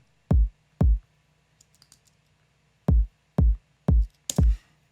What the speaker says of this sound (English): Here's our kick track.